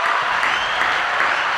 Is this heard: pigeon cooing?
no